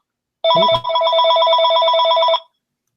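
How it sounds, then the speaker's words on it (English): A telephone rings loudly and close in one continuous trilling electronic burst lasting about two seconds, followed by silence. "Whose phone was that? Did we hear a phone?"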